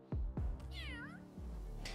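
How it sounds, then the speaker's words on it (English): A cartoonish cat meow from the video game Hearthstone: Battlegrounds, a couple of clear, close meows with a brief rising effect, standing alone with no talk over it. "Meow."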